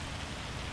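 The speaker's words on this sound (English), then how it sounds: "it's really annoying that it's raining though in game" Steady in-game rain in Farming Simulator 25 hisses as an even, continuous wash of falling water with no voices.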